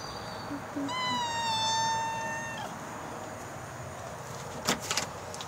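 A cat meows once, a clear drawn-out mewing call near the mic, followed by a brief soft thump against quiet room background.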